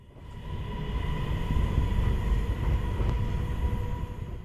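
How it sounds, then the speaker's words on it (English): A Norrtåg X52 train pulls out of the sidings, its steady low rumble swelling and holding with faint tonal whine and a brief metallic clink, heard from on board or nearby. "our train leaves the sidings"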